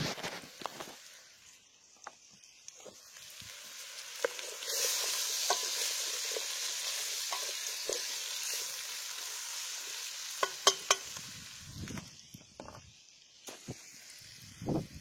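Smoky-flavoured soup cooking in a pot in a garden, a soft simmering hiss that swells through the middle, broken by scattered scrapes, taps and clinks from stirring.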